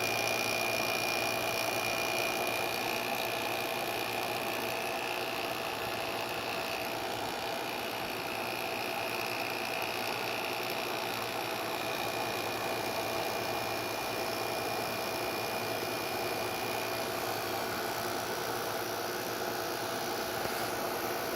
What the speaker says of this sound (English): See the disadvantages of rotary compressors?